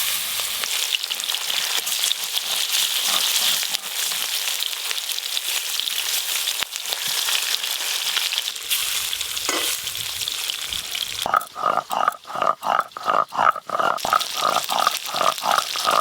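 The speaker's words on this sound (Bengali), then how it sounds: "মাছ ভাজা শুরু করছি।" Rupchanda fish fries in hot mustard oil with a loud, steady sizzle. Later comes a burst of rhythmic scraping and spatter, like the pieces being moved in the pan.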